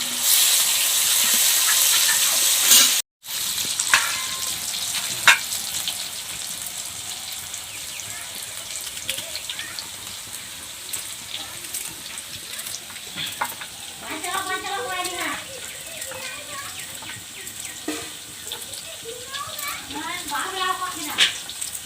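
Potatoes go into a sizzling village-style country chicken curry, with a loud hiss at first, a brief dropout, then steady frying and stirring under a person talking for much of the time.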